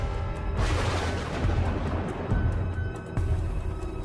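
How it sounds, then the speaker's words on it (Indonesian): A very loud, continuous barrage of explosive booms and rumbling blasts fills the whole stretch, with several sharp bursts standing out over the roar. "terdengar lagi suara ledakan yang sangat keras."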